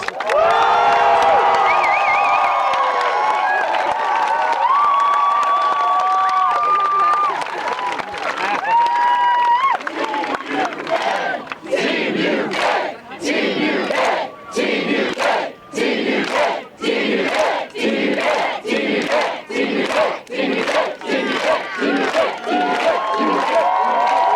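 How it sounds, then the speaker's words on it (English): A large crowd applauds and cheers for Team UK at a Quidditch World Cup closing ceremony, with a loud sustained roar that breaks into rhythmic, evenly spaced bursts of clapping or chanting. "a huge round of applause for Team UK, please!"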